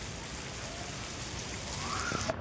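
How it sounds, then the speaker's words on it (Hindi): Rain falling heavily all around outdoors, a steady fine hiss of drops hitting surfaces, heard from a rooftop at moderate distance. "तगड़ी बारिश हर जगह।"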